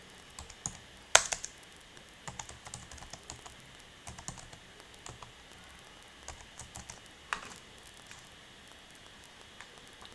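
Quiet typing on a computer keyboard, with irregular light key taps and a few sharper clacks spread through the stretch, close by and without speech.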